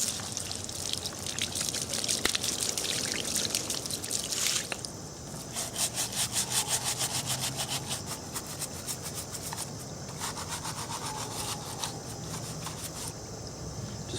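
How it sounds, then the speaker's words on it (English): Water from a garden hose splashes and trickles over animal skulls being rinsed, a steady close spray broken by brief changes and dripping. "I'm going to go rinse them off in the hose and take off all the the extra crud that's on them"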